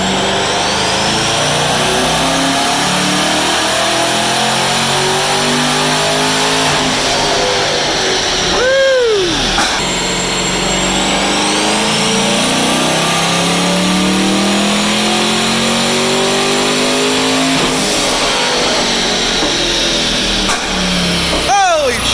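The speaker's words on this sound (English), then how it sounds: "We're gonna rev it out this time." A twin-turbo C8 Corvette runs hard on a dyno, its engine roaring loud and continuous for over twenty seconds, with repeated rising pitch sweeps as it revs out through the gears.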